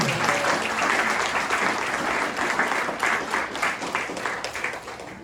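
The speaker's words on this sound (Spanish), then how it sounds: "¿Cuánto le dan un fuerte aplauso al Señor en esta mañana?" A congregation at a Spanish-language church service gives the Lord a loud, sustained round of applause one morning, dense steady clapping filling the hall for several seconds.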